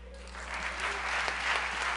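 An audience at a cabaret-style singing show applauds in a moderate, steady patter of clapping, fairly quiet and somewhat distant, over a low constant hum.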